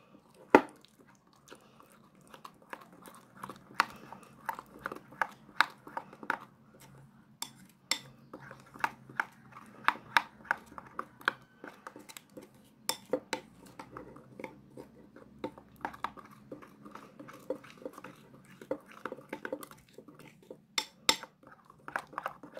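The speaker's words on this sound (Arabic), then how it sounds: "نستمر في الخلط حتى نتحصل على خليط كريمي." Spoon stirring a creamy Nescafe hair dye paste in a bowl, a quiet run of irregular scraping clicks and taps against the bowl sides, close and continuous with no talk.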